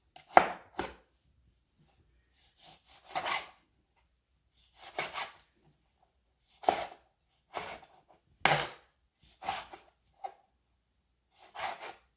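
Knife chopping ingredients on a board for a Trinidadian lime pepper sauce, a series of irregular sharp thuds in quick bursts with short pauses between, close and fairly soft with no talking.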